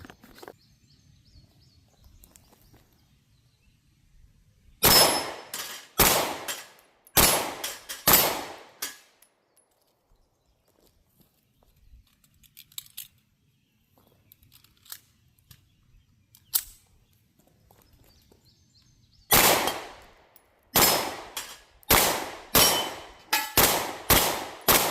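A German Luger P08 9mm pistol fires at steel targets, each hit ringing out as a sharp metallic clang, in two quick strings of several shots separated by a long quiet pause.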